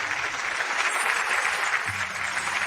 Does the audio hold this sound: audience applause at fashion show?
yes